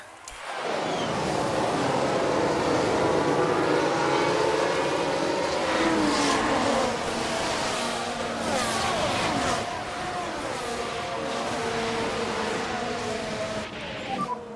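Formula 1 race cars restarting after a safety car period at the Saudi Arabian race in F1 Manager 24, a loud, continuous roar of several engines with pitch sweeps as they accelerate together.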